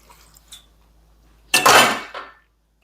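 Half a cup of water splashes into a pot in a single quick pour, near and loud, preceded by a few faint kitchen clinks and followed by quiet.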